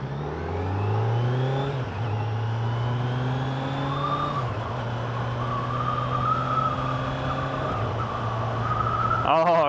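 A 2025 Kawasaki Z900 SE motorcycle with a quick shifter pulls hard on the road, its engine note rising steadily through each gear with brief dips at the shifts, loud and close amid wind rush, with a rider talking at times.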